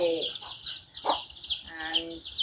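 Chickens clucking in short, repeated calls at a rural Thai home in cold weather, moderately close, with a brief louder squawk midway and the clucks continuing steadily to the end.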